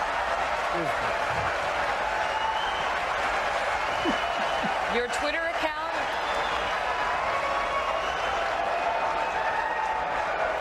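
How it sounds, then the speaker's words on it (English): Audience applause at a 2016 election debate swells into a sustained, dense wash of clapping with some laughter, continuing loudly beneath someone speaking for the whole stretch. "She doesn't like the applause."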